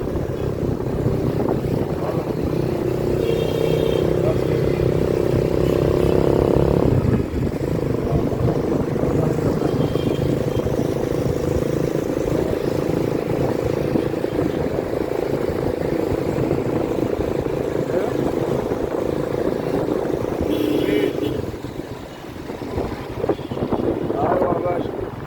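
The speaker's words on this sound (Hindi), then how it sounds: "अभी हम ऊबर की मोटरसाइकिल पे चल रहे हैं।" An Uber motorcycle rides through the streets of Cairo with a steady, loud engine drone and heavy wind rush throughout, and a brief dip near the end.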